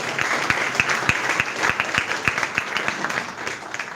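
An audience at an international medical sciences symposium applauds, a steady round of clapping with individual sharp claps standing out nearby over a fuller crowd patter.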